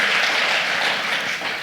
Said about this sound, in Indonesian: beri tepuk tangan dulu dong buat Tuhan kita Yesus Kristus.